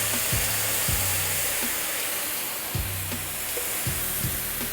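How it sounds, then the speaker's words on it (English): Chicken pan deglazed with white wine gives a steady, loud hissing sizzle, with a few soft knocks and scrapes of a utensil against the pan underneath. "I'm gonna deglaze a little bit with a little bit of white wine."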